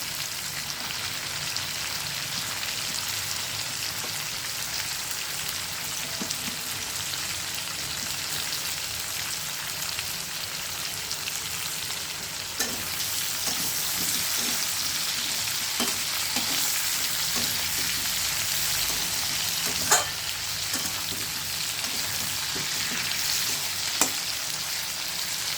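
Potatoes with chopped onion and green chili fry in hot oil, a steady loud sizzle with occasional stirring scrapes and clinks, continuous and close with no talking.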